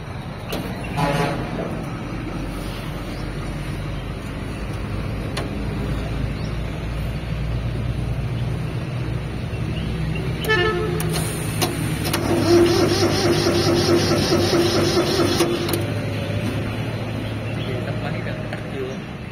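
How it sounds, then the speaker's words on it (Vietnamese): A used tractor's diesel engine, shown at a Vietnamese farm-machinery dealer, cranks, starts and runs with a steady low rumble and broadband clatter, loud and close, with people talking over it. "bây giờ mình nổ máy thử rồi ha."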